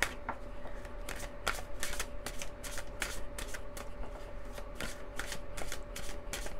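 A deck of tarot cards is shuffled by hand, giving rapid repeated crisp riffling bursts close up and fairly quiet, with no talking.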